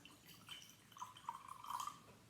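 Water is poured into a jar, a faint, close trickle with rising gurgling tones as the jar fills, quiet and without voices.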